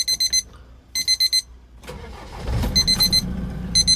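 A 2014 Land Rover Defender 2.2 TDCi turns over and fires up nearby, its diesel settling into a low idle while a rapid electronic warning chime beeps in repeated bursts before and after the start.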